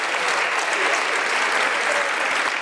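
Loud, dense applause from an audience at a political rally, an unbroken wash of many hands clapping close and steady for the whole moment, with no voices over it.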